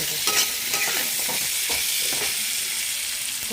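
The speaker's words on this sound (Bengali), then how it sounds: "ভাজা হচ্ছে হোক" Food frying in a pan with a steady, dense sizzle and occasional stirring scrapes, close up and continuous, with no voices.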